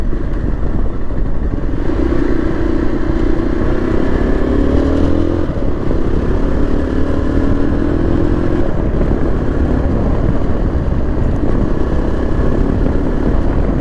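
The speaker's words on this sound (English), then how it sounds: "I just pulled it up from 46, and the bike, the engine did not feel happy, and that's in fourth." A 2024 Yezdi Adventure motorcycle engine pulls from low speed in fourth gear with a loud, continuous rough drone and a slowly rising pitch, close by with no talk.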